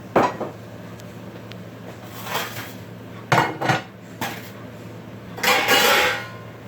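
Pots, pans and dishes clatter as they are cleared off a home kitchen counter after cooking vegetarian flat rice noodles with eggs, with several separate bursts of clinking and knocking and a longer rattle at the end.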